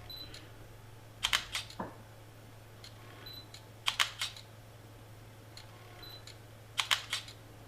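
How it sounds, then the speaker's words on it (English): Three bursts of shutter clicks from an Olympus E-PL1 mirrorless camera, each a quick cluster of sharp mechanical snaps, spaced a few seconds apart over faint steady hum. "the shutter sound, the sound that each makes when you're taking pictures"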